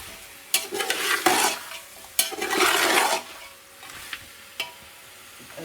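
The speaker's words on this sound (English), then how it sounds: "give that a fry." Meat and onions fry in a pot for yakhni pulao, with loud bursts of sizzling and stirring that come and go, separated by quieter sputtering and a few sharp clinks, and no talking.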